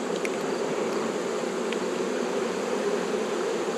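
Honeybees from an opened hive box swarm in a steady, dense buzz that holds close and loud throughout, with no voices over it.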